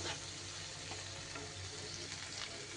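Spice paste cooks down over low gas in a covered pan for an elephant foot yam dish, a faint steady low sizzle and bubbling hiss without distinct stirring hits or voices.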